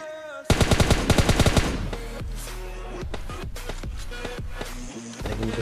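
Rapid automatic rifle fire from M416 and AKM assault rifles in PUBG Mobile Lite, a loud burst of closely spaced shots followed by scattered single and short-burst gunfire over a steady game background.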